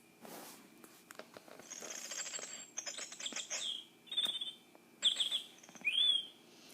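Small songbirds chirp and whistle in trees on a morning in the forest, with short bright phrases repeating at close to middle distance over a quiet background.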